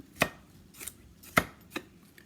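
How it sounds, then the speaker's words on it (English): A knife chopping through carrots and squash on a cutting board, four crisp thuds at an unhurried, uneven pace, close and clear with no talk. "You just do it the old-fashioned way. You just chop."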